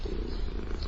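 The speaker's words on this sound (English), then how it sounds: "You didn't tell me you had a cat." A domestic cat purring close by, a soft continuous low rumble that holds steady throughout with no voices over it.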